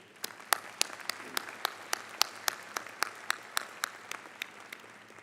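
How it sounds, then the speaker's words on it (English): Steady applause from a commencement crowd, with sharp individual claps standing out in a rapid, uneven rhythm, moderately loud and with no voices over it. "that does deserve a round of applause"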